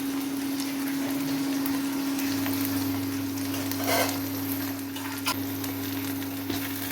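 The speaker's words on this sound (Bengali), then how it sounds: "এখন আমি আদা রসুনের পেস্ট দিয়ে দিলাম" Ginger garlic paste frying in oil with browned onions in a home kitchen pan, a continuous close sizzle with a few brief stirring clinks and a steady low hum.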